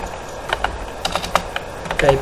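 Rapid clicking of computer keys while typing text into a word processor document, irregular taps close up with a brief murmur of voice near the end.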